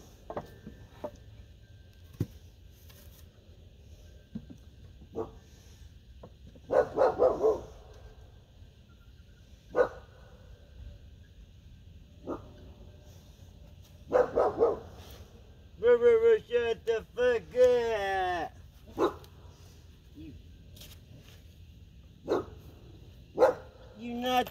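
A dog barks in short bursts at a backyard chicken hoop coop build, the barks spaced out between quieter stretches of outdoor sound and faint talk.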